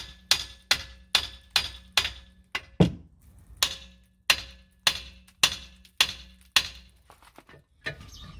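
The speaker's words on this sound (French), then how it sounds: "il va falloir taper ici avec le marteau" Repeated hammer blows on the front strut of a VW Golf 4 during a short-spring shock absorber replacement, about fifteen sharp metallic strikes in a fairly steady rhythm, close and loud, with no talking.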